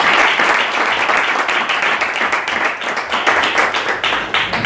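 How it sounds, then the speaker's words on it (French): A church congregation at a seminar applauds loudly, a dense, continuous wave of clapping with some vocal acclaim that stays strong throughout and sounds close and full. "Je veux que tu acclames très fort le Seigneur pour toi-même ta vie"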